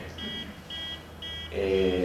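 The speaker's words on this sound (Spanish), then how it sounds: "La alarma no es de ustedes, ¿no?" An alarm gives three evenly spaced high electronic beeps during an interview indoors, followed by a brief burst of voice at the end.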